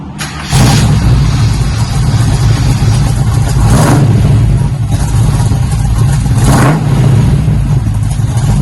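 A cold 1971 Chevy Nova with a bumpy cam idles loud and lumpy through custom dual exhaust mufflers, punctuated by three sharp revs that swell and fall back to the rough idle.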